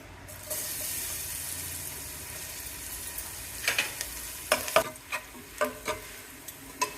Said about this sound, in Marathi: खोबरेल तेल मात्र गरम जालें की लसूण घाल्या